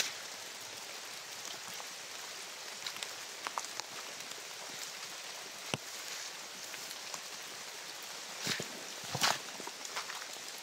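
Steady rain hissing on a surface, with scattered louder drips and patters standing out against the constant wash.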